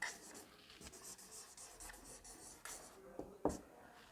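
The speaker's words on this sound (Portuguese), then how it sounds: "Eu vou escrever aqui, ó." Writing on a board during a hairdressing-career talk: faint, scratchy strokes in short bursts with pauses, quiet and close, with no talking.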